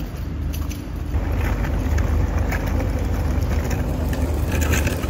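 Engine of a passenger boat bound for Campbell Bay near Little Andaman, a steady low droning hum with water wash that runs throughout, fairly loud and with no talk over it.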